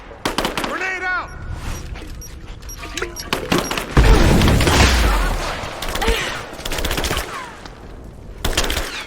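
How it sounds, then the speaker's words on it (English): Grenade blast and rattling gunfire in the game Rise of the Tomb Raider: bursts of shots, then a heavy booming explosion midway with rumbling debris, with soldiers' voices calling out amid the combat. "Grenade out."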